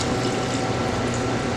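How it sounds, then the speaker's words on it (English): Water gushes steadily into a pot of stew, a close, continuous pouring and filling sound with no talk over it. "And now we're going to add in our water."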